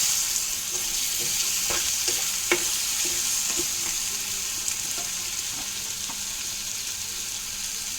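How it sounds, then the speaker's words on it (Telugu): Small fish fry in a pan on low heat, a steady close sizzle with scattered light pops and occasional stirring clicks, no voices. "ఇప్పుడు మనం ఈ చిన్న చేపలు వేసేసుకోవాలి"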